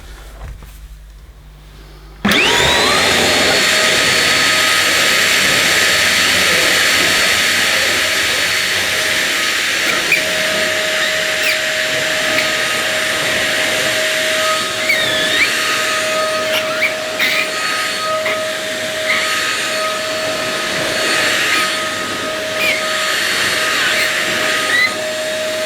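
A One Concept Pila bagless vacuum cleaner switches on after a brief quiet moment and runs steadily with a loud, constant whirring motor drone and a thin high whine, unbroken to the end.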